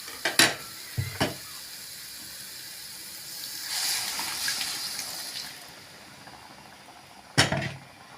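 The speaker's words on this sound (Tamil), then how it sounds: "நல்லா கலந்து விட்டுக்கோங்க" Ground coconut and tomato paste being stirred into sardine fish curry masala in a pan, with sharp spoon-on-pan scrapes at the start and end around a steady sizzle and hiss in between.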